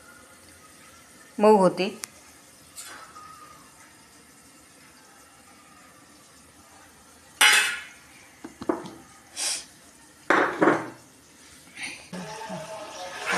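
A lid set over tomatoes cooking in a pan, heard as a few sharp metallic clanks and rattles against the cookware separated by quiet stretches, close by, with someone speaking briefly between them.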